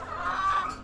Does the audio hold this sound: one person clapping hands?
no